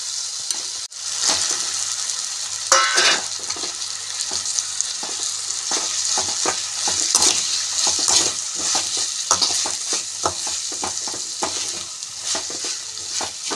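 Chapati noodles stirred through chilli sauce and soy sauce in a hot pan: steady frying sizzle with repeated scraping, clattering stir strokes close by, no talk.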